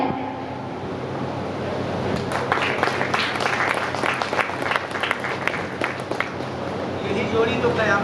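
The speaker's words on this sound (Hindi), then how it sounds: "जोरदार तालियों से स्वागत करें।" Audience applause at a Hindi poetry gathering (kavi sammelan) swells into a steady, dense clatter of many hands lasting several seconds, moderately loud, following a host's voice at the start.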